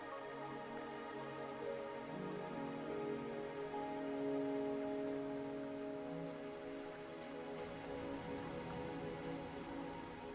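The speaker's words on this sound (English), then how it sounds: "Are you trapped here by the rain?" Steady rain falls in Wuthering Waves, a dense, even patter held throughout beneath sustained tonal music.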